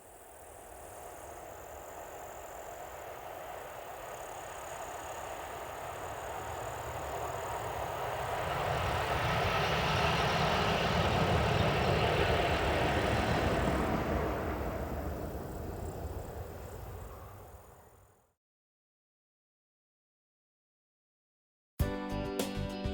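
A banking locomotive, number 043, runs back downhill on the Tatra mountain line in Slovakia near Štrba. Its rumble swells as it nears, peaks loudly mid-pass, then fades away before cutting to silence, with a brief unrelated burst at the end.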